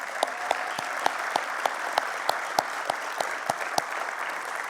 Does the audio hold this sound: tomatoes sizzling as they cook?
no